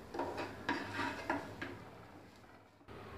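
Fresh coconut halwa is scraped from a pan onto a plate, with soft repeated spoon scrapes and light clinks of utensil on metal, fairly quiet and close.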